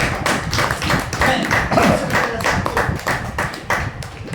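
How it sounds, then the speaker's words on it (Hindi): An audience at a Hindi poetry recitation claps loudly and close, a dense burst of many hands with thumping accents that keeps going without talk. "ताली बजा दीजिए"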